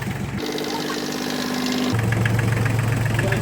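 An ISEKI TH4335 compact tractor engine idles after an oil change with a steady mechanical rumble and knocking, its pitch shifting partway through, with a voice faintly underneath.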